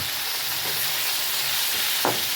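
Tomatoes frying in a pan, a steady close sizzle and hiss throughout with a brief louder stir or scrape near the end.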